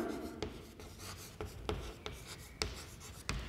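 Chalk or marker writes on a classroom board in faint scratching strokes punctuated by about seven sharp taps, spaced irregularly across a quiet room.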